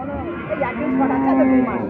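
A Sahiwal cross cow with her calf at a village cattle market lets out one drawn-out, fairly loud moo that rises and holds for about two seconds, close by, with faint market voices around.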